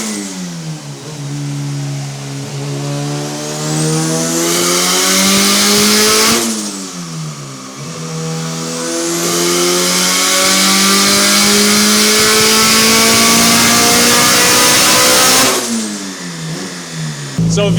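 A turbocharged Honda Civic engine on a dyno revs hard through two long, loud pulls, its pitch climbing steadily as VTEC engages, with a short drop between runs.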